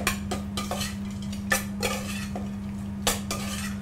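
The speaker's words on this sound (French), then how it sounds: "Alors maintenant, on va commencer à remuer et on va faire un test." A spoon stirs a mixture in a small mixing bowl, scraping and clinking against the sides in irregular strokes, several sharp taps standing out over a low steady hum, close and fairly quiet, no voices.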